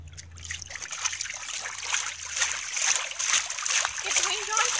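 Water trickling and splashing near a rock at a pool's edge outdoors, steady dribbling with brief splatters, moderately loud and continuous.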